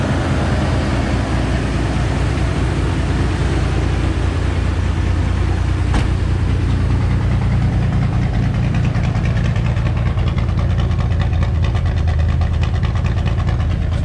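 Chevy S10 race truck engine idling while warming up, a steady low rumble running evenly throughout, close and unbroken, with no voices.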